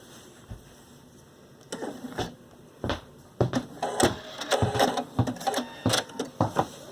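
Viking Sapphire 930 sewing machine stitching a long tapering pattern, heard as bursts of rapid mechanical clatter, irregular stops and starts, close and moderately loud.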